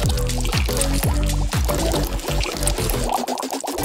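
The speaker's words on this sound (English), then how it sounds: "pouring all of our ingredients into the bowl and swirling it around" Ingredients pour steadily into a bowl in a cooking challenge, a loud continuous liquid pour with gurgling pulses that tapers off near the end, with no talking.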